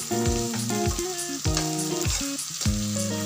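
Potato and carrot pieces frying in hot oil with finely chopped chili being added, a steady close sizzle over a busy kitchen background with music-like tonal sounds throughout.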